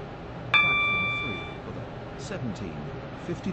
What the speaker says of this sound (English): This train is now approaching Angel Pass.